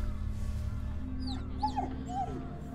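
Dog in Ghostwire: Tokyo whimpering with a few high yips and whines over a steady low game hum and ambient drone, moderately loud.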